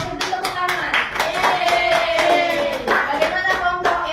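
An elementary school class claps after a group presents a magnet experiment, rapid uneven claps from many small hands in a room, steady and fairly close for the whole stretch.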